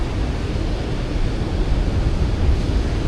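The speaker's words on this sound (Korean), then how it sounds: "지금 보시다시피 파도가 엄청나게 살벌하게 치고 있어요." Strong ocean surf at Haeundae beach in Busan after rain, with a steady broadband roar of breaking waves and gusting wind noise filling the whole stretch, no voices.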